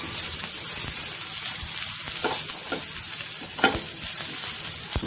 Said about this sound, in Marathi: आल्याचे तुकडे घेतले ते पण टाकते, ते पण भाजून घेते कांद्याबरोबर